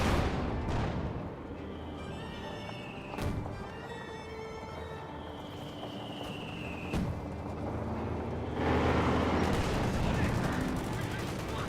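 Tank cannon and anti-tank gunfire in the Company of Heroes 2 strategy game, including a Panzer IV and a Cromwell: repeated booming shots and crackling battle noise over a constant rumble of fighting, with no talk.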